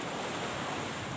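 Surf at Geger beach rolls in as a steady, close wash of breaking ocean waves with some wind buffeting the microphone, no voices.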